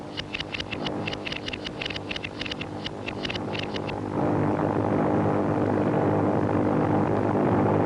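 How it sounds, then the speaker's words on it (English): Japanese bomber planes fly over wartime Chongqing: a steady, loud propeller-engine drone rumbles throughout, with a rapid pulsing beat in the first half, then a denser, slightly louder roar. "China's new capital was a high priority target for Japanese bombers"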